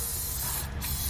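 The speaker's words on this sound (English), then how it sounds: "I'm going to spray down the hanger," Spray lubricant hisses steadily out of an aerosol can onto a rubber muffler hanger beneath a 2017 Toyota Prius v, one continuous close blast lasting about a second.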